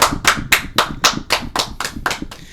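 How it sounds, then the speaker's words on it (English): Nine or ten sharp, evenly spaced hand claps from one or a few people in a quiet room, a short rhythmic round of applause with no talking. "Round of applause for co-host Zach."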